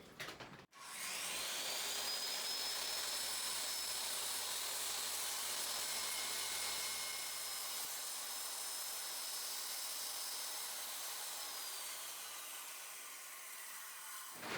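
A circular saw cuts scrap plywood along a Kreg Accu-Cut rail, spinning up after a short click and then holding a loud, sustained high whine with a steady drone for about twelve seconds before winding down.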